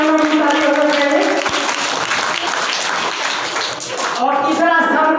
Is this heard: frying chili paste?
no